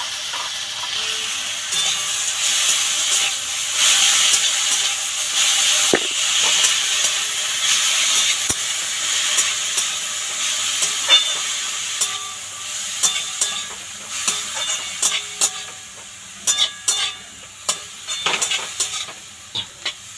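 Beto greens frying in a pan with salted spice mix, a continuous hissing sizzle that gradually settles while sharp clicks and scrapes of stirring become more frequent toward the end.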